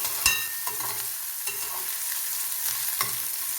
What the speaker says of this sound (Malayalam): ഇനി നമുക്ക് വെളുത്തുള്ളിയും ഇഞ്ചിയും ഇടാം.